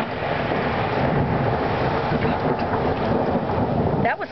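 Thunder rolls through a Seattle hail storm in March, a long low rumble over the steady patter of hail and rain, fairly loud and continuous with a brief dip at the end.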